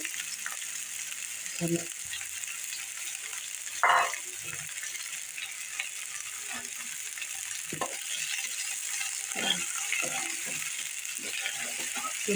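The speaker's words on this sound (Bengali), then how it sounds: "রসুন আমি আগে দিয়ে দিব তেলের মধ্যে।" Ginger, garlic and spices frying in oil give a soft, steady sizzle, broken by a few scattered clinks and scrapes of stirring.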